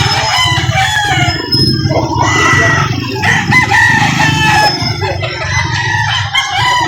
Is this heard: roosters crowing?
yes